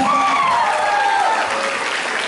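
A church congregation at a revival service applauds, a dense, loud wash of clapping throughout, with a voice or music faintly carrying over it.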